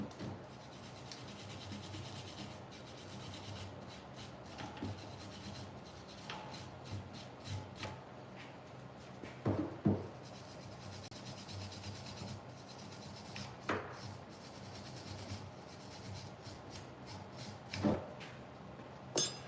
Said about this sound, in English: wire brush.